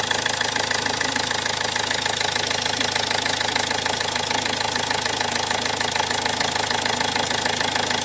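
A car engine with a head gasket repaired using No Leaky sealant idles steadily and close by, with a constant low rumble and a rapid, even ticking knock throughout.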